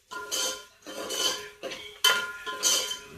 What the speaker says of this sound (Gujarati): હા એટલે ખીચડી વઘારે છે